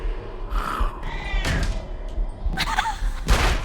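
A cat meows briefly in the horror video game Panicore, a short cry amid dull thuds and rumbling game noise, with a few louder impacts near the end.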